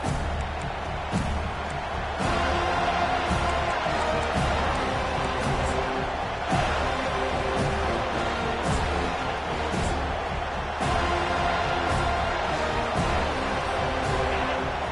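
A packed stadium crowd at the Florida versus Florida State college football game roars and cheers steadily, a dense continuous wall of noise with occasional louder swells and whoops throughout.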